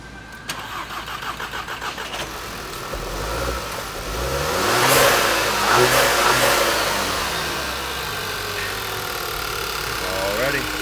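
Cranking of a 2013 VW Beetle with a CDFA engine code after a water pump replacement, catching with a rumble, rising through a couple of revs, then settling into a steady idle close by.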